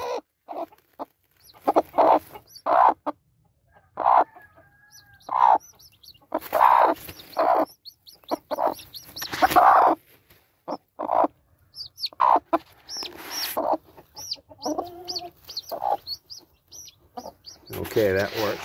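A broody game hen on a farm clucks and squawks in short, repeated bursts, with a person talking between and over the calls.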